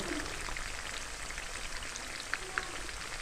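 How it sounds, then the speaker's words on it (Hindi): Fish pieces frying in hot oil for a golden fry give a steady, soft crackling sizzle with a few sharper pops, heard alone at low volume. "फिश को हमने डाल दिया ऑयल में फ्राई होने के लिए।"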